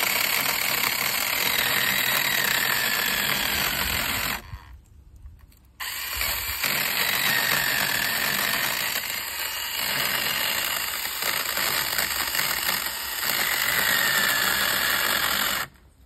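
An electric chainsaw runs loud and steady while cutting wood, with a high whine over a buzzing motor, cutting out briefly partway through and then starting up again before it stops at the end.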